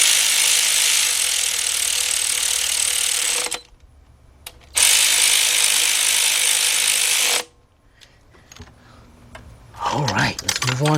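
Ratchet tightening 10 mm bolts on a 2006 Kia Sportage 2.7 engine during removal, two long loud bursts of dense clicking separated by a pause, then quiet handling and faint movement.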